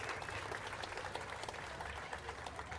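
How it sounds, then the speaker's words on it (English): Music hall audience applauding, a steady wash of many hands clapping indoors, fairly distant and quiet throughout the short stretch. "Give yourselves another round of applause."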